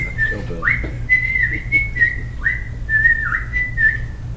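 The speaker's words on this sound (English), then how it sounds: "Could you give us a whistling sample?" A person at a Rotary Club scholarship awards gathering whistles a short, bright melodic phrase of gliding and sustained notes, clear and close over a low room hum.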